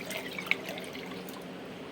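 Water poured from metal pots onto a Shiva lingam in a temple gives a steady, close splashing trickle with a brief sharp drip near the start and no voices.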